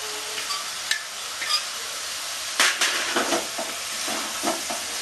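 Cumin paste goes into chicken frying in a pan for a Bengali jeera chicken curry, giving a steady close sizzle with a few scraping stirs and clinks over it.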